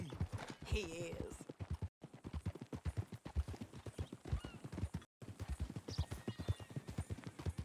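Horse hooves clip-clopping at a steady ride in Red Dead Redemption 2, a rapid even rhythm running throughout, close and fairly loud, with brief breaks and faint game sounds behind.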